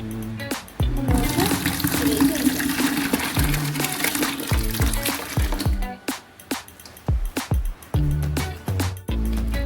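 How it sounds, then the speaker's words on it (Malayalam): Grape wine mixture pours and sloshes into a container for several seconds, followed by a series of clunks and knocks from handling. "അങ്ങനെയുള്ള ഒന്നിലേക്ക് വേണം നമ്മളിത് മാറ്റി ഒഴിക്കാൻ."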